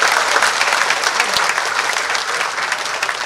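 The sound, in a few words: audience applause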